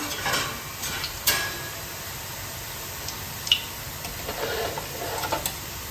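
A steady, soft sizzle of oil as a Thai dok jok pastry mold is dipped and held in the pan, with a few faint taps and clicks.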